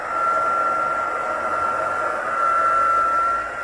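A handheld embossing heat tool runs steadily for several seconds while heating up, giving a constant loud blowing whir with a fixed whine and no pauses or talking.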